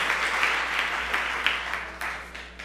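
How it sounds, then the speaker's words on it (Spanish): A church congregation applauds in a steady, dense wash of clapping that tapers slightly toward the end, heard at moderate distance with no talking over it. "Un aplauso para nuestro Dios."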